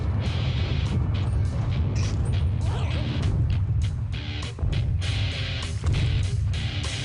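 A rumbling, crashing earthquake effect in an animated adventure, with a deep continuous roar and repeated thuds and smashes running steadily for about seven seconds.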